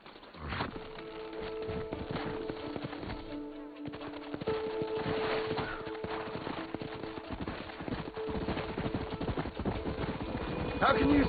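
Horse hooves in Red Dead Redemption, a steady run of rhythmic clip-clop beats close by, continuing under game dialogue and background sounds.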